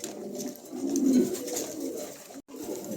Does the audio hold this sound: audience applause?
no